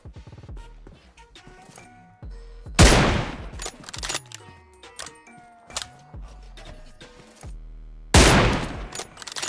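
Gunfire in the mobile battle royale BGMI, with two loud, sharp blasts standing out among lighter clicks, thuds and game effects, close and punchy with no talking.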